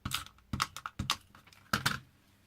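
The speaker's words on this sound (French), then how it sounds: "un petit coup de rouleau de scotch au milieu de ma petite carte" A roll of sticky tape is dabbed onto a small handmade owl card in a quick series of close, crisp taps and clicks, several short bursts with brief pauses between them.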